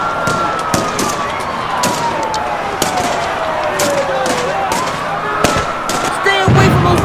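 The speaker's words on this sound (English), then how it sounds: "I'm hearing gunfire coming from the distance of Ohio." Distant gunfire during a riot emergency alert scenario: repeated sharp pops and cracks scattered across a steady loud noise bed, with a wavering siren-like tone running underneath.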